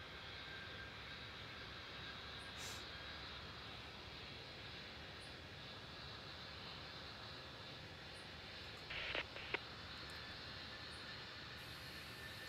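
A jet airliner in Tower Simulator 3, the air traffic control game, rolls for takeoff from runway 36 right at Cincinnati airport with a steady distant engine roar and a few faint clicks, and no talking.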